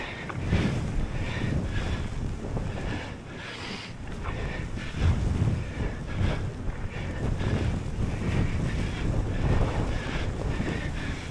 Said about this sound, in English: The headwind helps a lot too.